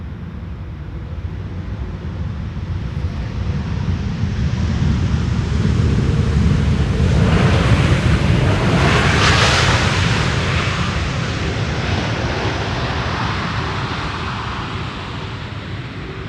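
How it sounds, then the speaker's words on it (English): A KLM airliner on a long-haul arrival lands on Schiphol Airport's Polderbaan runway, a broad roar swelling from a distance to a loud peak mid-clip and then slowly fading, with wind noise throughout. "This is KLM flight 749, arriving from Cartagena, which is in Colombia"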